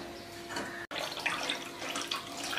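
Water is poured off soaked pearl millet flour dough, a soft continuous trickling and splashing stream, close and fairly quiet, with a brief break partway.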